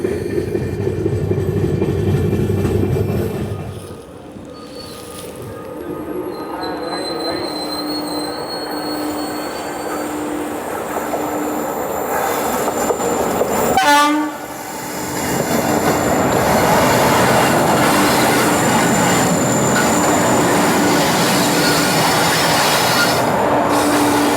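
Visakhapatnam–Mumbai LTT SF Express train rolling along with banker locomotives pushing from the rear; a steady loud rumble of wheels and carriages, with a brief squeal around the middle and the roar swelling again toward the end.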